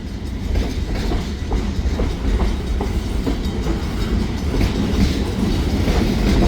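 An SD9 diesel locomotive hauls a freight train across a County O crossing, with a steady loud rumble of rolling cars and a faint repeated clickety-clack of wheels over rail joints throughout.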